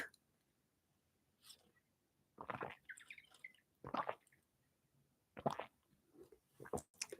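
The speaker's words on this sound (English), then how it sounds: "let me have a drink while I think about it" Water is sipped from a reusable bottle on a hot day, a few close, quiet wet gulps and mouth sounds in short bursts separated by silence.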